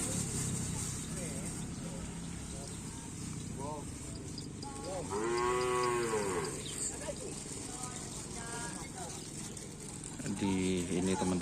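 Cattle at a bull racing (karapan sapi) practice ground, several loud drawn-out moos rising over a noisy outdoor crowd, with people talking throughout.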